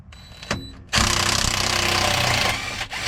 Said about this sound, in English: I'm using a 1/2-inch drive impact